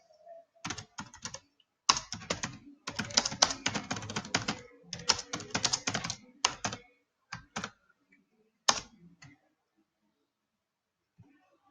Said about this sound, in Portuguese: Vou digitar aqui o que eu acho que vocês traduziram.